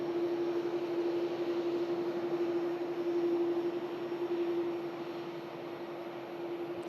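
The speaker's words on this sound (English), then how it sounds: "It's going to be a loud departure, this. The Aer Lingus Airbus A330." An Aer Lingus Airbus A330 with CF6 engines departing from an airport, a steady droning roar with a sustained engine tone that stays heard at a distance and eases slightly toward the end, with no voices.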